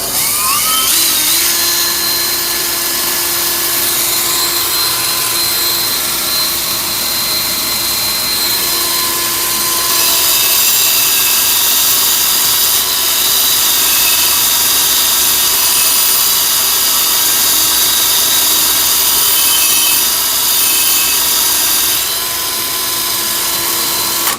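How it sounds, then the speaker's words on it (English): A bench grinder fitted with a wire wheel brushes a vintage axe head, giving a steady, loud high-pitched whine and hiss that holds without a break throughout, with the tone shifting slightly as the steel is pressed against the wheel. "bench grinder with a wire wheel set up on it, so I'm having to improvise"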